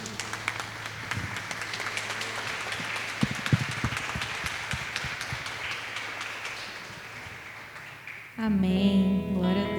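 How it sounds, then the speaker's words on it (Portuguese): Church congregation applauding for Jesus during a worship celebration, a long wash of clapping with scattered sharp claps and some background voices, ending as sustained music or singing takes over. "Vamos dar uma forte salva de palmas para Jesus."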